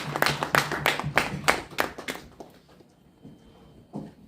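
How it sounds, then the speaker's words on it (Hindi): An audience claps for Radha Krishna at a Hindi Diwas literature award gathering: a run of loud, rhythmic clapping bursts that thins out and fades to near quiet after about two seconds. "एक बार राधा कृष्ण जी के लिए ताली बजा लीजिए।"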